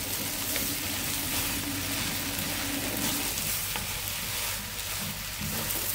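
Meat sizzles and fries steadily with onions and green chilies in a pan, a dense, close, continuous crackle with occasional stirring, no talking.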